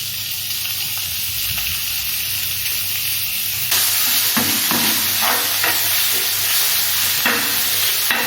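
Kefta meat stir-fried in a pan in a home kitchen in Morocco: a steady loud sizzle and hiss throughout, with scraping stirs, no talking.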